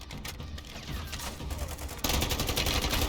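Dense automatic gunfire in the zombies mode of Call of Duty MWIII, rapid bursts rattling continuously and growing louder and harsher toward the end, with no talk.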